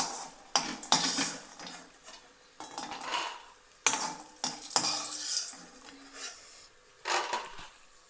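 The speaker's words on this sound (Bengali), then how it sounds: "বড়ি ভাজা কমপ্লিট আমি এবার তুলে নিচ্ছি" Fried lentil dumplings (bori) are lifted out of a pan with a metal utensil during a vegetarian spinach chorchori recipe, giving repeated scraping and clinking strikes in irregular bursts with a faint background sizzle and no talk.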